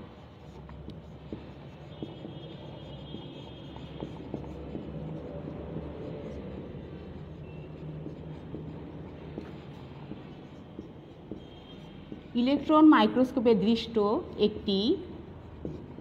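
Pen or pencil scratching on paper while a plant cell drawing is labelled by hand, a short burst of writing strokes near the end following steady talk over a low background hum.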